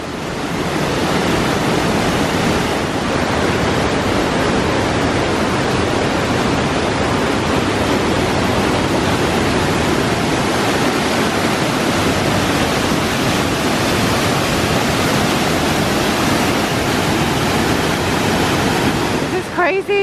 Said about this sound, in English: This is so powerful. This water is very high, I think.